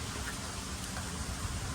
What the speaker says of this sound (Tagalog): dahil nga hindi humihinto ang ulan.